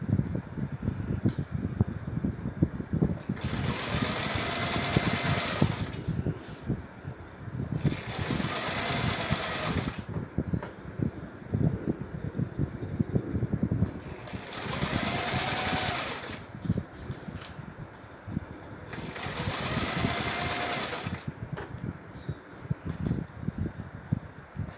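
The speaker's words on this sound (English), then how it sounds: "zigzag the edges, which is what I'm doing, as you can see from the video" Four separate runs of a sewing machine zigzag-stitching the edges of pillowcase fabric. Each run lasts a few seconds, with quieter handling noise in the gaps between them.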